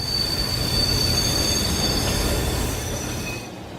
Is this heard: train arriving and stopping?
yes